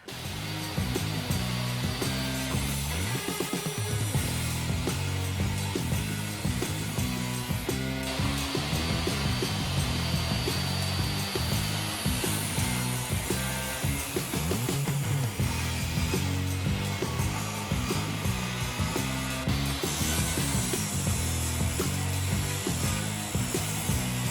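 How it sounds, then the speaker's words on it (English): A table saw set up for routing wood whines continuously with a steady, loud motor drone and cutting noise, running alone for the whole stretch. "Routing on the table saw is pretty simple as long as you have a helper that can hold one end."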